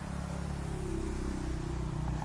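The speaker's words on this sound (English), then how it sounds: "Listen to the tires whispering on the wet road." Tires hiss steadily on a wet road as a car passes. The broadband wash is continuous and moderately close, with a faint engine hum underneath and no voices.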